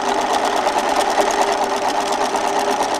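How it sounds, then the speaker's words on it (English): A sewing machine runs steadily as it top stitches along the bias edge of Christmas bunting, a close, even mechanical whir with a fast rapid rhythm and no pauses. "you're machining just on the edge as a little top stitch."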